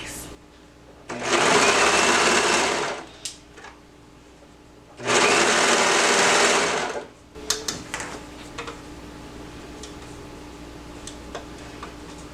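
A serger stitches a 1/4 inch seam on a summer romper while trimming off the seam allowance, running in two loud, steady bursts of a couple of seconds each, followed by light clicks and handling noises.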